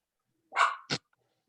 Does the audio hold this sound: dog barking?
yes